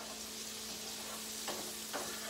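Brussels sprouts browning in a hot pan give a steady close sizzle, with two brief stirring scrapes near the end.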